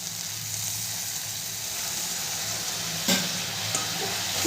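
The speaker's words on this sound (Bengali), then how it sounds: "জলটা দিয়ে আলুটাকে ভালো করে আমি কষিয়ে নেব" Potatoes and spices sautéing in a pan with a splash of water for a dhaba-style bhendi dish, giving a steady close sizzle and fry hiss with a brief clatter of stirring near the end.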